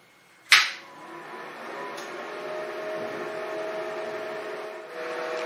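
A second-generation wafer BGA grinding machine starts up with a sharp click or thump, then settles into a steady mechanical hum with faint whine tones that continues evenly at close range.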